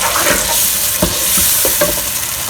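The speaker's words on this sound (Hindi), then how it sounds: "अब हम बिरयानी के मसाले को भूनना शुरू करते हैं" Biryani masala fries and sizzles in a pan, with ginger-garlic paste added, while a spoon stirs and scrapes through it in a few quick strokes, close and steady with no talking.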